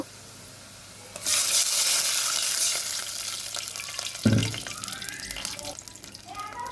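Onions frying in oil for a cauliflower and sarputi fish curry burst into a loud, close sizzle when a little water is poured in. The hiss then settles into a steady crackle with faint stirring.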